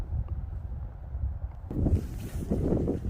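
Wind gusting across a snowy reservoir on a winter day, low rumbling buffets against the microphone that swell louder midway and keep blowing, with no voices.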